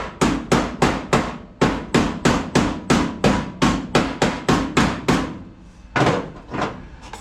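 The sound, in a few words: air chisel separating car body panel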